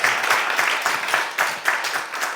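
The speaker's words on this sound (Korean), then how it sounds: "허브 선생님께 큰 박수로 마무리 짓겠습니다" An audience claps for a speaker at a Korean rural-community lecture, a short burst of moderately loud, fairly sparse applause with individual claps audible in a quick irregular rhythm.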